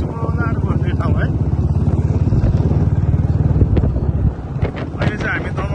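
A motorcycle rides along a road toward Golatar, its steady engine drone mixed with heavy wind buffeting on the microphone throughout, close and loud.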